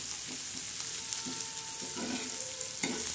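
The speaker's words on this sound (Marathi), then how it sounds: "मंद गॅसवर आता तो मस्त लालसर असा चांगला भाजत आहे, म्हणजे तडका बसत आहे त्याला।" Chopped onions sizzling in oil over a low gas flame while egg bhurji with green chillies is cooked, a steady close hiss broken by a few soft stirring scrapes.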